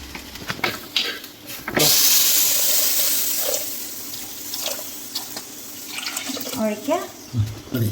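Water pours and splashes into a cooking pot while a home dinner is being made, a steady rushing stream lasting several seconds with clatter and a few faint voices around it.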